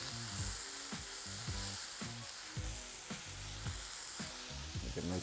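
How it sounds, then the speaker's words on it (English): Onions and peppers sizzling steadily as they brown and caramelize in a pan, with repeated stirring scrapes every second or so over a constant close, moderate hiss; no voices. "we're trying to brown and caramelize these onions and peppers"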